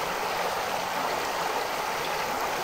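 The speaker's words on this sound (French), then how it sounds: "Je profite rien que des petits sons de la rivière" Steady broadband rush of a small river flowing, constant and fairly close, with no voices over it.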